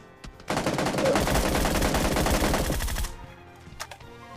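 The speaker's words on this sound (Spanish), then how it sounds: "No, le disparé a lo loco" A sustained, rapid burst of automatic gunfire in the mobile battle-royale game New State Mobile lasts about two and a half seconds, followed by a few scattered faint shots.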